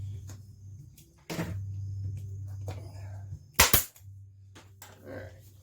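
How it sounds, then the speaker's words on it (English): Pneumatic staple gun firing into a Yamaha Blaster 200 ATV seat cover, several sharp close snaps with one loud double shot, over a low hum and occasional handling noise, no talking. "pneumatic staple gun makes a huge difference"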